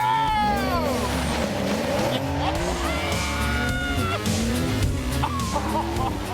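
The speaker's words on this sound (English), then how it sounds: "It's a cracking getaway for the Porsche, but the wet track is making it an interesting ride." A Porsche sports car pulls away on a wet track, its engine note climbing and shifting in loud sweeping tones that run continuously throughout, with a busy mix of other sounds layered over it.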